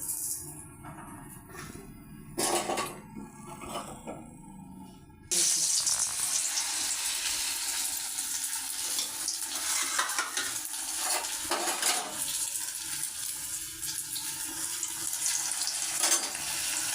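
Fish fries in a pan for a Tamil meen kulambu meal; a quieter stretch with a few clinks gives way to a loud, steady, close sizzle with occasional stirring and turning.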